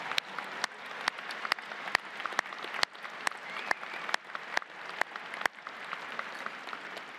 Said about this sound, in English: let's give our faculty of Texas Tech University a round of applause